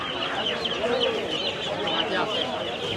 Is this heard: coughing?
no